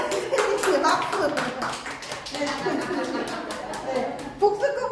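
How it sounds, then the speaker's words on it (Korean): Audience applause at a noodle-making creator lecture, a steady patter of hand claps running through the clip beneath a speaking voice, with a brief louder burst near the end. "박수"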